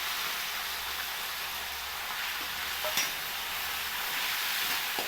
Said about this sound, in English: Now we will add coriander leaves in the same pan.